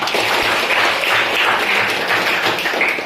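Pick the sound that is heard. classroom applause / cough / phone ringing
classroom applause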